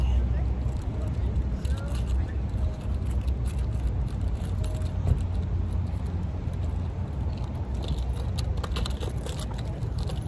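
Alfa Romeo car rolling out on a Texas hill country drive, a steady low engine and road rumble heard from inside the cabin, with people talking over it.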